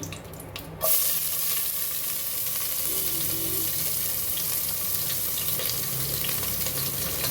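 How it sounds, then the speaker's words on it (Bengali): Chopped onions drop into a hot pan for chicken tehari and start frying, a burst of steady sizzling and crackling that stays even and fairly quiet throughout. "এবার আমি পেঁয়াজ কুচিগুলো দিয়ে দিই।"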